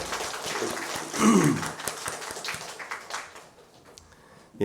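A Korean church congregation claps at a Sunday morning service: a short burst of applause that peaks early, then fades into scattered claps and quiet.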